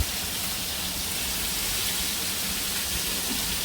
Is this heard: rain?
yes